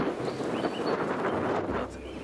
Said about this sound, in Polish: Słyszycie na pewno ten wiatr.